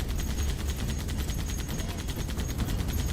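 Rapid, sustained fire from a mounted turret in Halo CE, a steady loud stream of shots running through the whole stretch with no talk over it.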